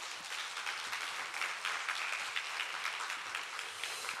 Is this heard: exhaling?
no